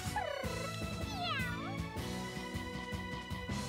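A person imitates a cat's meow several times in a high, sliding voice over steady background music, with each meow rising and falling in pitch.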